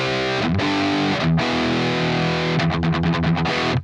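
A distorted electric guitar plays through the Amped ML Plexi plugin, which emulates a Marshall Plexi amp: loud, crunchy sustained chords and then a quick run of chopped, rhythmic strums at the end.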